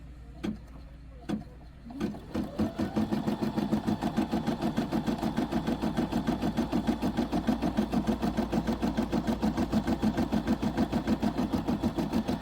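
A Brother SE700 embroidery machine stitching a design: a few isolated clicks, then a steady, fast, mechanical rhythmic whirring that runs close and even to the end.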